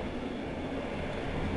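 An old Yugoslav passenger train on the Montenegro to Serbia line rumbles with a steady low roar and rattle, heard close from aboard the carriages, continuous and unbroken with no talking.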